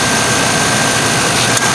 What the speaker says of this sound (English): And there's the engine running.